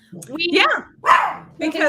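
Dogs bark indoors in three quick, loud bursts, close by, with short gaps between each bark.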